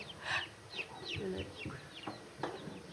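Faint, high-pitched peeping from newly hatched chicks on a farm, scattered chirps repeating irregularly at a low, quiet level.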